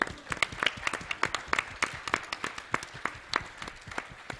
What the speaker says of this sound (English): So folks, give yourself a hand for achieving it. Come on, clap yourself.